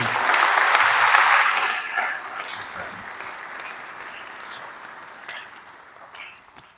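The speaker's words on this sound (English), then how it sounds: "Let's offer a round of applause for these." Applause from attendees at a LEAP results press conference in Louisiana starts loud and dense, then thins into scattered claps and fades out over several seconds, with no talking.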